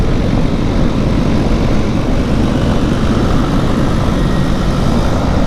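A KTM 390 Adventure and a Honda CB500X accelerate uphill in 5th gear, a loud, steady engine drone with strong low rumble and wind noise filling the whole stretch without a break.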